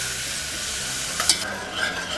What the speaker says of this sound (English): I'm going to switch over to a whisk and I'm going to add the milk